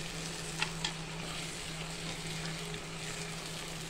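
Boiled chickpeas tipped into a sizzling tomato and onion masala for chana paneer masala, giving a steady close frying hiss with a couple of soft drops or stirs early on and a low background hum, no talk.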